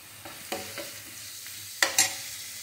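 Vegetables for chilli soya sauté in a pan, with a faint sizzle broken by several sharp scrapes and clinks of the spatula as they are stirred, close and without talk.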